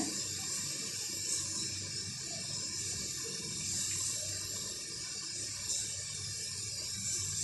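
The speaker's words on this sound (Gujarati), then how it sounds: "હવે આપણે ગોળનું પાણી લેવાનું છે।" Jaggery water pours into flour for sweet dhebra dough as a soft, steady watery hiss that runs unbroken throughout, fairly quiet and with no voices.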